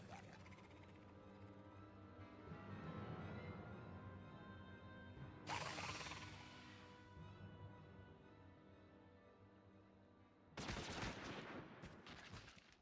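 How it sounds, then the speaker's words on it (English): Gunfire in the Final Fantasy XIV video game, loud sustained bursts of rapid shots with two sharp, bright volleys standing out against a steady mechanical drone. "Who's shooting?"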